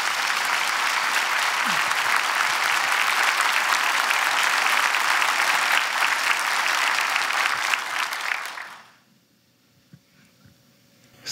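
A church congregation at a dedication service claps warmly for a pastor coming forward, dense and sustained applause for about eight seconds before fading into near silence.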